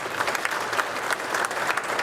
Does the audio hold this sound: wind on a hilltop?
no